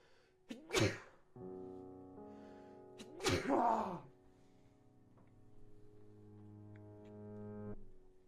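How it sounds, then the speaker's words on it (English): A person sneezes twice, loud and close, about three seconds apart, over a steady low musical drone from Legend of Zelda: Breath of the Wild gameplay. "Oh, I have to sneeze really badly."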